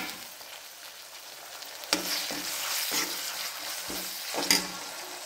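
Tomato fries with browned onion in a pan for an egg curry, a soft steady sizzle broken by several spatula scrapes and clacks against the pan.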